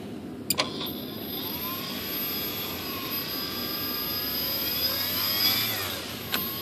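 An electric motor and propeller on an ASH26 2.6 m composite sailplane model run up on a bench test, a loud steady whine that rises slightly in pitch and holds, with a couple of clicks near the start and end.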